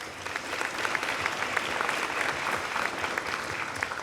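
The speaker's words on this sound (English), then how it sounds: "Let's give him a round of applause." An audience at a community youth symposium applauds state representative Flannery, with dense, even clapping that holds a steady level for about four seconds and no voices on top.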